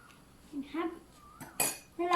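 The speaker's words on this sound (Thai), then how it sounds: "ก็คนนะครับ" A spoon stirs a milk jelly mixture in a pot, with a few distinct clinks and scrapes of metal against the vessel, close and fairly quiet, broken by short pauses.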